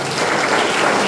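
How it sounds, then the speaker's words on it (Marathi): A church congregation clapping in worship, a dense, loud burst of many hands together, brief and continuous with no voices. "देवाला टाळ्या देते."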